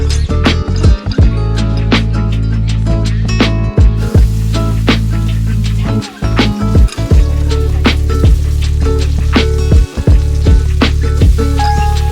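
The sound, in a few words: steak frying in a pan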